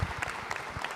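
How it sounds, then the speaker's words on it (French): Studio audience applauding during a Téléthon review broadcast, a brief, moderately loud patter of many hands clapping at once, without a clear beat. "nous, on vous applaudit pour ça."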